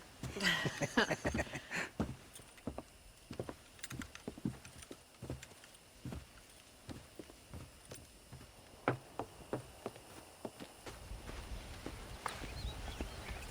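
Horse hooves clip-clop at a walking pace in the video game Red Dead Redemption, a steady run of close, crisp hoofbeats on hard ground with a low rumble rising near the end.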